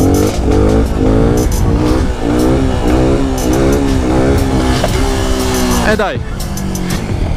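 A motorcycle pulls away in second gear: its engine roars loud and close, revs climbing and falling through steady rising sweeps before a sharp drop near the end, while a rider speaks briefly over it.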